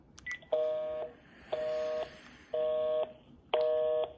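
Four steady keypad dialing tones from a telephone, evenly spaced about a second apart, each a clean sustained beep, preceded by a couple of short quieter blips.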